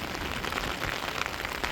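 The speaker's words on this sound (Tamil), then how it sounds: "மழையும் ஊற்றிக்கிட்டு தான் இருக்குது" Heavy rain pouring down in strong wind, a dense, even hiss of drops striking surfaces, steady and close throughout, with no voices.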